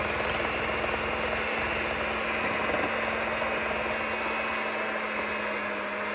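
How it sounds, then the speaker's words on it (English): A countertop blender whirs continuously through sourdough crepe batter made with raw milk, a steady, loud motor drone with no talking. "We're going to blend this up together."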